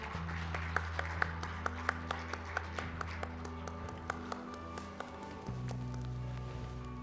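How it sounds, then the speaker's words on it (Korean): A conference audience at a peace forum keynote session gives steady, moderately distant applause, a dense even wash of clapping with a few sharper claps standing out, and no speech over it. "박수로 환영해 주시기 바랍니다."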